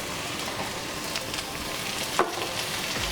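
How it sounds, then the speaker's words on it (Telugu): Chopped tomatoes and onions fry in a pan for a phool makhana curry, with a continuous close sizzle and one sharp spattering crackle shortly after two seconds. "ఇవి కూడా ఒక 1 మినిట్ ఫ్రై చేసుకోవాలి"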